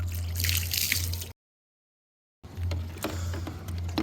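Water splashing and gurgling during a baby's bath, a close, continuous wet sloshing broken by a full second of silence, then resuming with scattered splashes and drips.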